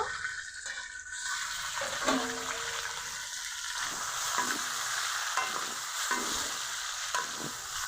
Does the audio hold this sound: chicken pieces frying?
yes